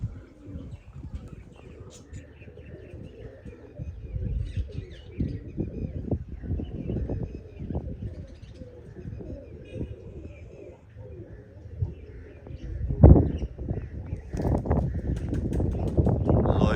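Flying pigeons coo in an open rooftop setting on a cold, overcast evening as they are brought down, the soft calls mixed with bursts of rustling and flapping that grow denser and louder toward the end.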